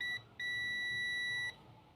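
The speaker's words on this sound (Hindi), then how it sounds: "ये बीप दे रहा है।" A multimeter's continuity test beep: a brief tone that cuts out, then a steady, high, pure beep held for about a second before stopping, faint and alone with no talking.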